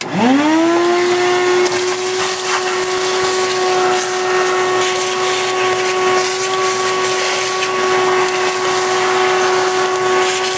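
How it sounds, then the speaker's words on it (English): Carbon is cleared from around the EGR area of an old Ford truck being started for the first time in five years. A loud, steady motor whine with a rising start holds its pitch throughout, close and continuous. "we're going to sweep this all out, that whole area there, and clean her up"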